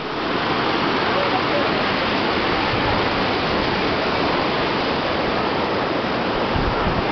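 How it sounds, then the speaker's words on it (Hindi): A fast-flowing mountain river rushes beside the Chamunda temple, a loud, dense, unbroken roar of water that fills the whole stretch without pause. "साथ में ये नदी बह रही है, इस नदी का जो बहाव है बहुत तेज है।"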